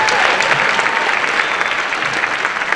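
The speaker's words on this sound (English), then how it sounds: "Give them another round of applause." Loud, steady applause from an audience at a high school band concert, Glendora High School's Bandorama, a dense wash of clapping that holds evenly throughout.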